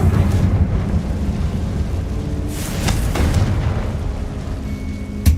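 A Confringo fire spell bursting in Hogwarts Legacy, a deep rumbling boom with a windy roar that sustains for several seconds before a sharp click near the end.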